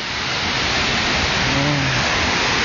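Steady broadband rain hiss on a mountain trail, loud and continuous throughout, with a faint low rumble and no voices.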